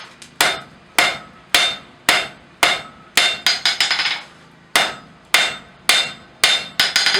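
Hammer striking hot steel on an anvil while forging a decorative heart, a series of sharp ringing metallic blows in a steady rhythm with a brief quick flurry midway, loud and close.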